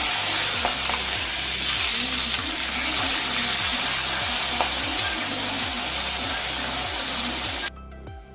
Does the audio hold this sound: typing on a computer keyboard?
no